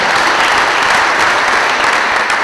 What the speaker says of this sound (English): So let's give a round of applause for Vicki Granger.